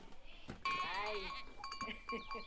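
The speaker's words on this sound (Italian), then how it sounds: "Ma perché hai fatto uscire quella capra?" A goat bleats in a wavering, harmonic cry lasting about a second, loud and close, with short voiced sounds and background noise around it in an animated scene.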